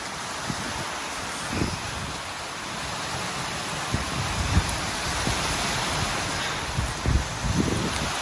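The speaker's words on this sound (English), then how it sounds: "It's a heavy rain." Steady, heavy rain pours down in a dense continuous hiss on a horse property, with occasional louder splashes and thuds close by.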